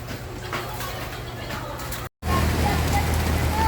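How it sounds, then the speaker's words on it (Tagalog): Floodwater rushes through the Kalentong market in Mandaluyong, a steady, hissing wash of water heard close, with a brief silent dropout partway through before the flow resumes. "Sobrang lakas po ng baha dito sa Kalentong."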